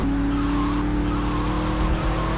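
Car engine revs steadily in the game GTA Vice City as the vehicle drives and its tires skid, a continuous loud whine with a screech toward the end.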